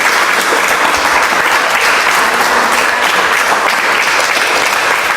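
A church congregation claps in sustained, dense applause as an offering of praise to God. The clapping is loud, close and continuous, with no break and no voices above it.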